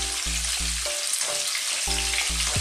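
Garlic and onion sautéing in a pan for a Filipino green beans and pork dish, a steady loud sizzle and fry with intermittent low stirring clunks, no voices.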